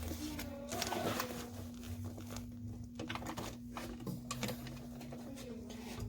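A sewing machine runs steadily while stitching a Phoebe backpack, with a constant motor hum and rapid needle patter. Faint handling sounds occur as the bag is pushed flat.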